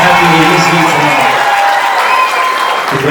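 Wedding reception guests applaud in a dense, loud burst of clapping with some cheering and a whoop, fading slightly toward the end.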